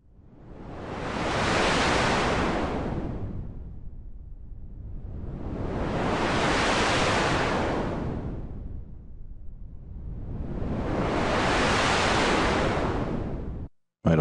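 A wind and wave effect synthesized on a Superwave P8 swells and fades in three slow, even surges like wind or waves rolling in, steady and fairly loud, then cuts off abruptly.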